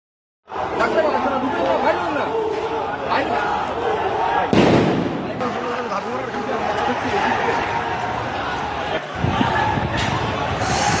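A crowd chatters and shouts at a street protest as a loud crude cocktail bomb bang bursts out midway, with another sharp crack near the end.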